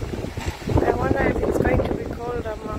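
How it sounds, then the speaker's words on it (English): Strong evening wind by the water buffets the microphone in a continuous rough rumble, with a voice talking over it throughout. "But it's so windy."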